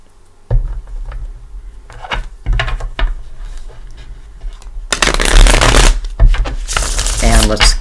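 A Gilded Tarot deck is shuffled in bursts of riffling card noise, a few short bouts early and a longer, louder stretch near the end, with a person talking between them.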